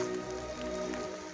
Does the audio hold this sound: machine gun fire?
no